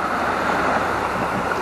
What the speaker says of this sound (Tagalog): Medyo kalmado yung dagat ngayon.